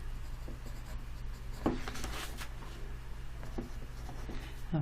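Pen or pencil writing out a math equation on paper, steady scratchy strokes with short pauses over a low background hum, close and fairly quiet.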